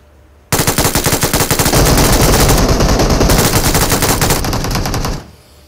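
An MG3 light machine gun fires in PUBG Mobile, a loud, sustained stream of rapid shots that starts abruptly and runs for nearly five seconds before cutting off.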